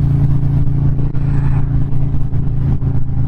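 A 2008 Harley-Davidson Road King motorcycle with a Twin Cam engine runs outdoors, giving a steady, loud low rumble with a constant throbbing drone and no audible speech.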